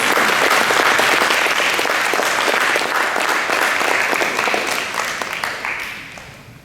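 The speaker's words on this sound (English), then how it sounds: "One more round of applause." Sustained applause from an audience at a school board meeting, loud and dense with many hands clapping at once, holding steady before gradually fading out at the end.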